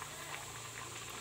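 Atta khasta kachori fries in hot oil, a dense continuous sizzle and fine bubbling crackle, close and steady throughout the short stretch.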